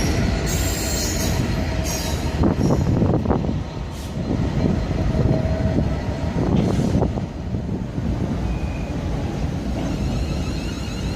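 A Heathrow Connect train passes through Southall station on the Great Western Main Line, its rumble and clattering wheels loud and close, with brief squeals over steady rail noise.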